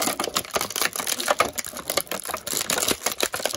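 Crinkly plastic bubble packaging of a Hasbro Black Series Boba Fett action figure being handled, a dense run of close, sharp crackles and clicks with no talking.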